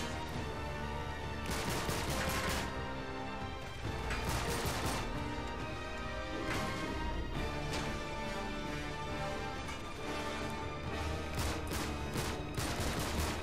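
Gunfire and heavy mechanical clatter from a sniper fight in Uncharted 3, loud overlapping shots and impacts repeating over dense, continuous game noise throughout.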